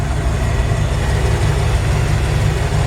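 A 1951 Ford F1 truck engine idles steadily and loudly up close, a continuous low rumble with no other sounds over it.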